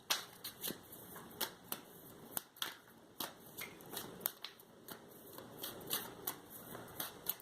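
Tarot cards are shuffled by hand in a quiet room, a steady run of soft riffling clicks and papery flutters repeating in quick bursts, close and fairly faint, with no voice.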